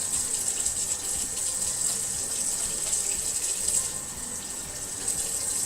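Hot water runs steadily from a kitchen tap into a sink, a continuous close hiss with a bright, even splashing tone and no pauses.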